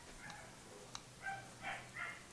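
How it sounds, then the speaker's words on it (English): A dog barks somewhere away from the microphone during a summer painting session, giving about three or four short yelps and barks spaced across a couple of seconds, moderately faint against a quiet room. "dog's going mad, but I guess it's the heat."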